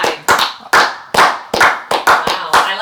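A few people clap for a tied score during a podcast quiz game, sharp close claps in an uneven burst of about ten, loud and dry with no talk over them.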